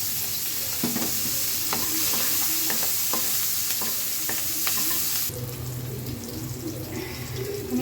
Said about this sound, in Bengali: তো এই তেলেই হচ্ছে কিছু পেঁয়াজ কাঁচামরিচ এগুলো দিয়ে একটু ভেজে